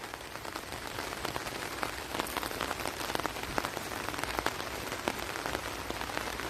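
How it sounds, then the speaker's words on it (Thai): Steady rain patters on a tent at a riverside campsite, a dense continuous hiss of drops with scattered louder taps, close and even throughout with no talking. "เพราะว่าฝนตกอยู่ครับ"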